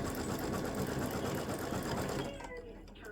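An embroidery machine stitching an appliqué elf-legs design runs in a fast, rapid needle chatter for about two seconds, then winds down and stops, leaving a quieter tail.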